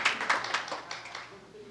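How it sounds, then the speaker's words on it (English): A small audience at a resident council assembly gives a brief round of applause, a scattered patter of claps that is loudest at the start and then tapers off, with faint voices underneath. "Another round of applause"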